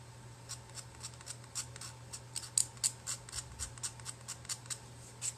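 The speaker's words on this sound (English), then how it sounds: "I am going to take my X-Acto knife, and I'm going to see about scraping this extra hair off" An X-Acto knife scrapes excess hair off a homemade truck cutout decoration in a steady series of about a dozen short, crisp, close strokes, with no one talking.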